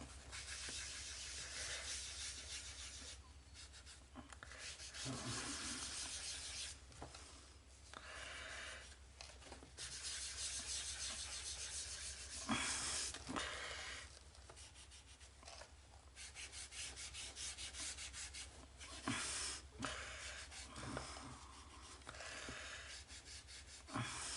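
Coloured pencil rubbed firmly across paper in a colouring book, faint close scratchy strokes in uneven bursts with brief pauses.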